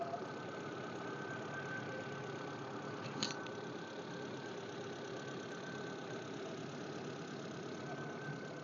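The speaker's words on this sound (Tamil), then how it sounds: "வண்டியோட இன்ஜின் சவுண்டை லைவாக கேளுங்கள்" A Hyundai Santro petrol car engine idles steadily nearby, a smooth even hum with a brief click partway through.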